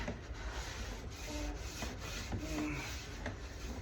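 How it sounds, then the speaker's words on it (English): Wooden stair treads being wiped free of dust before staining, a steady soft rubbing and scuffing that continues throughout at low volume with faint knocks, no talking. "we're wiping down these treads"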